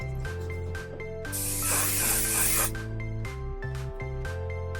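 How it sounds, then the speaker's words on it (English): Hair product sprayed at the roots of the scalp: a single loud, close aerosol hiss lasting about a second and a half, set against a sustained musical background before and after. "I'm gonna spray it right at the root"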